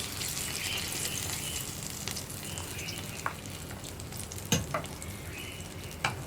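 A spoon stirs ghee-fried cashews and raisins through thick pumpkin payasam in a pan with soft scraping and a few light clinks, over a quiet sizzle.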